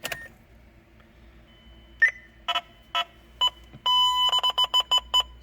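A hardwired radar detector powers up with a sequence of sharp electronic beeps, starting as a few spaced chirps and ending in a rapid rhythmic burst of bright tones, close and loud with no talking.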